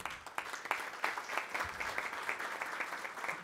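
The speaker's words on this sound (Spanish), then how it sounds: "Un fuerte aplauso, por favor." An audience at a forum on social security in Mexico claps steadily, a sustained patter of many hands at moderate volume, fairly close, with no speech over it.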